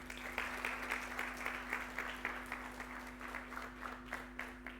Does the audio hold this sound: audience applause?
yes